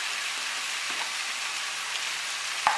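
Cabbage, potatoes and prawns frying in hot oil in a pan, a steady even sizzle with a faint clink near the end.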